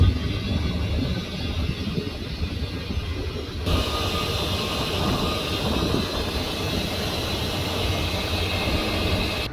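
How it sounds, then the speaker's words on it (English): Air tanks on a trailer's air ride suspension fill up, a steady rushing hiss and drone that jumps louder a few seconds in and continues evenly, with no talking. "That's the tanks filling up."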